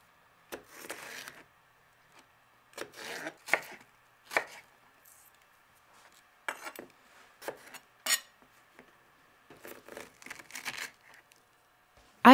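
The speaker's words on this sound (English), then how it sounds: "give them a rough chop as well" Serrano peppers roughly chopped with a knife on a board, in several short bursts of quick, crisp blade taps separated by brief pauses, close and fairly quiet.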